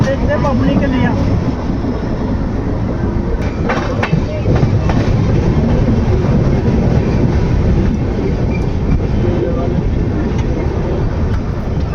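The Andaman Express rolls toward Pathankot station with a loud, continuous rumble and wheel clatter that fills the whole stretch, with occasional sharper knocks standing out from the steady roar.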